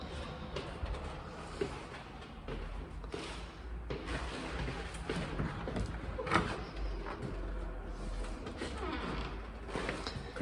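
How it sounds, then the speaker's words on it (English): A sticking townhouse front door scrapes and rattles as it is forced open, a continuous grinding drag with a few sharper knocks, close by. "Let's get this front door open. You can hear it sticking still."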